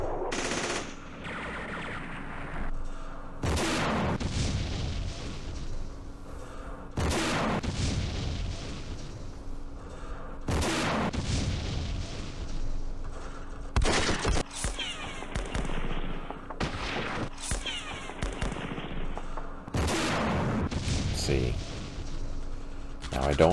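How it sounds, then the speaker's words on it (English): Gunfire in the war game Campaign Series Middle East comes as repeated sharp bursts and booming shots at irregular intervals, with a low steady hum and occasional talk between them. "Ooh, opportunity fire."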